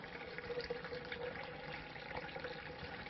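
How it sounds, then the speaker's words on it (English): Water pumped by stepping on a foot-operated unit rushes steadily through a carbon filter system, a continuous faint gushing flow with no talking. "all I need to do is to step on this unit to pump water through this filter system"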